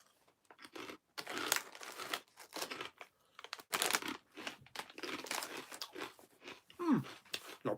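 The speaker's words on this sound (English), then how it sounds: "All you hear now is a lot of crunching." Close, crisp crunching of light, airy sour cream and onion snack curls, in irregular bursts of chewing with brief pauses between bites.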